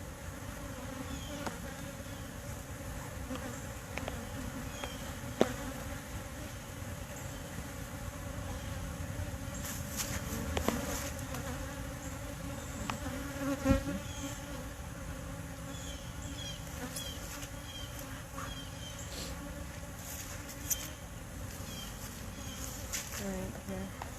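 Honey bees buzz around an open hive being gently handled, a continuous close droning hum with a few sharper knocks and brief low voices in the background.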